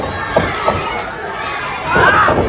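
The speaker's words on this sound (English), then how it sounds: "And lots of Titus cheers from the crowd." Pro wrestling arena crowd cheering for Titus during a hold, a steady roar of voices with a couple of sharp shouts and a swell of louder cheering near the end.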